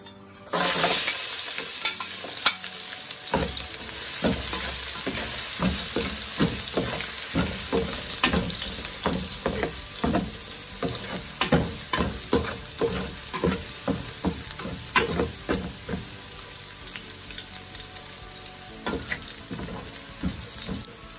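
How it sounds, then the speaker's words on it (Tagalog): Garlic sautés in a pan, a steady sizzle underneath many sharp scraping and tapping strokes of a spatula stirring it, irregular and close, continuing for the whole stretch. "maggigisa muna tayo. Unahin natin yung bawang"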